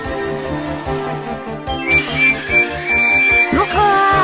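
A small steam tank engine running away toward a siding gives sharp, shrill whistle blasts, several short tones then a sliding one, sounding over steady background music.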